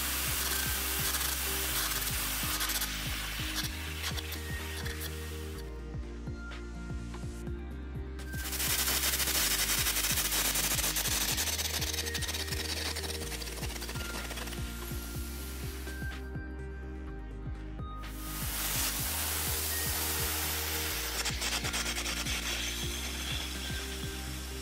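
Metal gouged down to the weld line on a test plate for a CSA W47.1 2GF welding qualification, giving a loud, continuous grinding rasp with a steady mechanical drone and two stretches where it swells and gets harsher.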